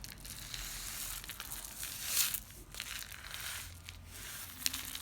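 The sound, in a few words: homemade rain stick rattling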